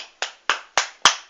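Four distinct hand claps ring out alone at an even, unhurried pace, each one sharp and close with a short decay, a single person applauding.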